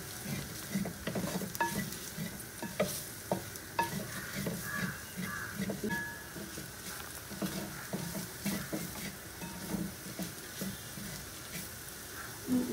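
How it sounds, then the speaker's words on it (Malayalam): Cooked pork stirred and frying with masala in a pan for a pork pepper fry with mustard sauce, a steady close sizzle broken by repeated scraping stirs and light utensil clatter, with no voices. "മസാലകൾ നല്ലോണം മുരിഞ്ഞതിന് ശേഷം പോർക്ക് വെന്തത് ഇതിലേക്ക് ചേർത്ത് കൊടുക്കുക."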